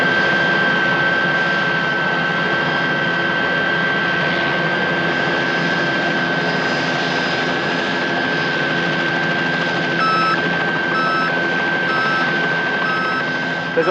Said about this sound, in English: Chopper patrol.